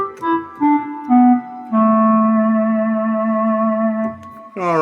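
Sustained, breathy wind-like synth tones play a slow sequence of held notes, one long note swelling near the end, with no voices.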